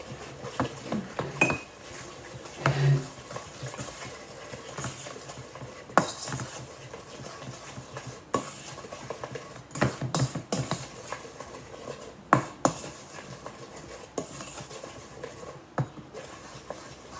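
Blondie batter being stirred by hand in a mixing bowl, with repeated scraping and clinking of a utensil against the bowl, plus a few sharper knocks, close and moderately loud with no talking.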